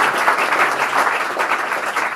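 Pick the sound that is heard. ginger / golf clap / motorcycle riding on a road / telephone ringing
golf clap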